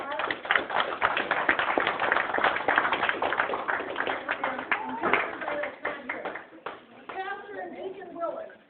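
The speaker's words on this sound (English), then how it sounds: "You can give him a round of applause." Scattered applause for a reverend at an awards banquet, uneven clapping from a smaller group with speech-like voices rising over it toward the end.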